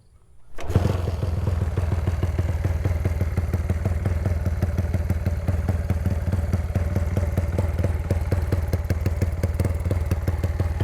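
A motorcycle fitted with a genuine titanium exhaust header starts up and settles into a steady, loud idle close by, its firing pulses even and rhythmic throughout with no talk over it.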